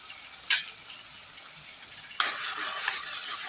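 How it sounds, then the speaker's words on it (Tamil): Masala with tomato sizzles and hisses in a pan for a sardine fish curry, stirred with a couple of sharp scrapes, the frying swelling louder after the second stir and holding steady. "அப்புறம் நல்லா வதக்கிக்கலாம்."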